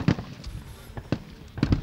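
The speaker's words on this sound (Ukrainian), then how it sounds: "Стрільби у нас майже кожен день." Gunfire at a military shooting range during training, a few sharp, fairly distant reports spaced irregularly over a low ambient background, with one doubled shot near the end.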